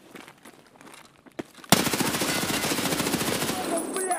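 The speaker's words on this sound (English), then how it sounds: "Shot him with the heckler." A Heckler gun fires in Escape from Tarkov, a sudden loud burst of rapid automatic shots that continues steadily after a quiet start with faint movement sounds.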